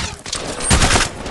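Rapid automatic gunfire in the mobile battle royale game Apex Legends Mobile, a dense loud burst of shots that swells midway and carries on steadily to the end, with no talk.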